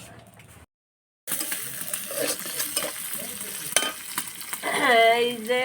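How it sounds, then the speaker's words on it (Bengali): Fresh red spinach greens sizzle and crackle in a hot pan, a steady loud frying hiss broken by a brief silence early on, with stirring scrapes and clatters close by. "এই যে এখন ভাজছি বন্ধুরা, সবাই দেখেন।"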